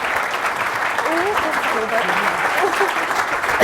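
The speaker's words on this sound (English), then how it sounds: "a round of applause for the captains of the Women's Six Nations" Audience applause for the Women's Six Nations rugby captains at the 2017 live launch event: a steady, dense clapping wash with some voices faintly audible underneath.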